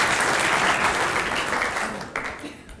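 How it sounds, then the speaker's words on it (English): Lecture audience applauding steadily throughout, a dense sustained clapping that gradually thins toward the end with a few louder claps. "A round of applause."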